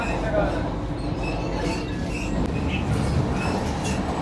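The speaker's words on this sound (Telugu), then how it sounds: "ఈ పక్కైతే ఎర్నాకుళం నుండి పాట్నా వెళ్ళే ట్రైన్ అయితే వెళ్తుంది." An Ernakulam-to-Patna train passes on the adjacent track, heard from aboard a Visakhapatnam–Secunderabad Vande Bharat Express: a loud, steady rumble of rolling wheels with faint squeals, close and continuous throughout.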